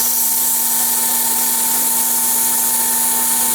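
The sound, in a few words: sanding a wood-turned lighthouse piece on a lathe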